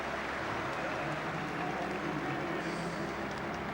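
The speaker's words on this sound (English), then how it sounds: "There's great ovation from the crowd." A rugby crowd at a 1997 Super 12 match gives a player a sustained ovation, with steady, distant applause and cheering forming a dense, even wash of noise and no speech.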